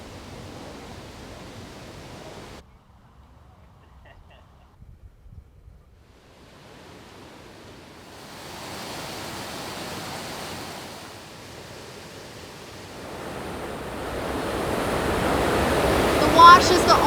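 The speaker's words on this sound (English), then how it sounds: "you'll start to hear a loud roar and realize it's running water" Running water roars at the Las Vegas Wash, a broad, steady rush that drops out briefly, then returns and grows louder toward the end, with some wind buffeting.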